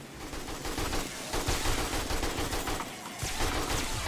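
Rapid AK rifle fire in the zombie survival game 7 Days to Die, a continuous burst of dense, loud shots with brief gaps, heard alone without talk.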